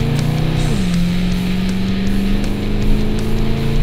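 A 1970 Dodge Coronet R/T with a 440 Six Pack V8 drives under steady, loud engine roar, its pitch dropping sharply as it shifts up a gear and then holding a constant drone, close and continuous with no talk.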